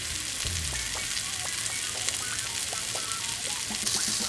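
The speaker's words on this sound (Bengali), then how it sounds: "বাটারটা দিয়ে আমরা চিকেনটাকে একটুখানি ফ্রাই করে নেব" Chicken frying in butter over low heat, giving a dense, continuous crackling sizzle with small pops, steady and close throughout, without any voices.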